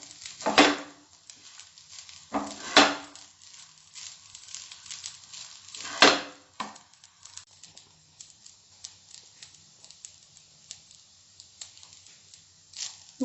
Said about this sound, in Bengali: নুন ভালো করে মিশিয়ে নিয়েছি।